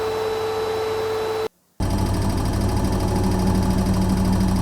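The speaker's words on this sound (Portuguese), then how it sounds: "Maria passando o aspirador nas cortinas." A household vacuum cleaner runs steadily on curtains with a loud, even whirring drone, cutting out briefly to silence before starting again at full power.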